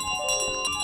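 The bell carried by the goose in Untitled Goose Game chimes in a bright, shimmering ring with a few overlapping strikes, sustained at moderate level and heard alone without voices.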